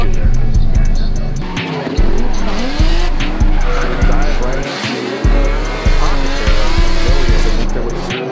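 Drift cars in a Klutch Kickers 100k Drift Series competition round slide side by side with tires squealing and engines roaring and revving in loud repeated surges, under continuous commentary.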